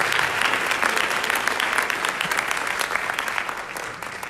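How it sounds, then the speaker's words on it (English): A crowd applauds at a jazz band Christmas concert, a steady wash of many hands clapping at moderate volume throughout, easing slightly toward the close. "Everyone give him a round of"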